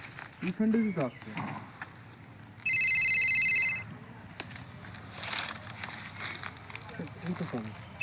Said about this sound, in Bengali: রিং পাওয়া যাচ্ছে স্যার এখানে?